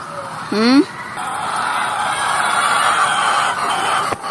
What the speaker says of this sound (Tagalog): Ito na yung aming mga RTL chickens.